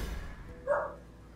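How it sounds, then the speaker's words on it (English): A dog gives a single short bark from some distance in a room, brief and moderately loud, with a low background hum and no speech. "I hear Panini barking."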